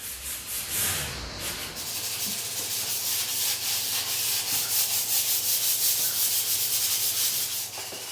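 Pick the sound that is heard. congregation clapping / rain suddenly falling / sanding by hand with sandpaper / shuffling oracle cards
sanding by hand with sandpaper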